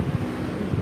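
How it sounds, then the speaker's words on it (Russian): Strong wind blowing on a hot day, rushing and buffeting with low gusty rumble throughout, close and steady with a couple of stronger gusts; no one talks. "начался ветер жуткий."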